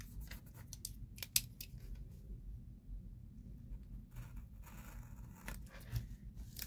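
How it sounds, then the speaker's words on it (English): An X-Acto knife trims planner paper, giving faint, close scratching and slicing sounds with a few sharp ticks against a soft background hiss, with no talk. "let me get my little X-Acto. I'm gonna trim this off so it goes off to the next page."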